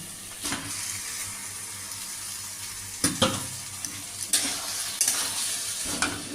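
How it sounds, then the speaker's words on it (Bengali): Bottle gourd frying with tengra fish masala, salt and turmeric in a pan, a low steady sizzle broken by several sharp scraping stirs of the spatula, close up and with no voices. "লাউ দিয়ে আমি অনেকক্ষণ ভাজতে থাকবো"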